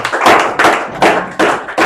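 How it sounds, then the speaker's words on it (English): A student audience claps in several short bursts, loud and close, with brief pauses between each round of applause. "So we'll boost their morale by clapping. So everybody has to clap."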